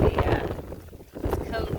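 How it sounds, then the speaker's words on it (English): Strong wind buffets the microphone in heavy, rumbling gusts, with water and voices faintly underneath. "it's so windy"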